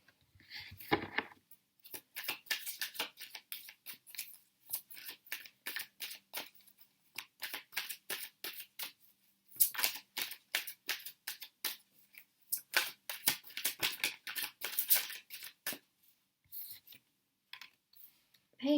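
Tarot cards are shuffled and laid out by hand in a quiet room, a long series of crisp, close papery flicks and slaps coming in quick irregular bursts with short pauses.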